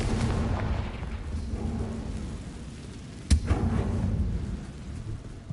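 A Confringo blasting spell in Hogwarts Legacy goes off as a single sharp, loud explosive crack with a short rumbling tail, set against a constant low, rain-like ambient roar.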